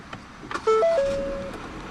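A 2014 Ford Fiesta Titanium sedan's push-button keyless start: a few short electronic chime tones, then the engine catches and holds a steady, even idle close by.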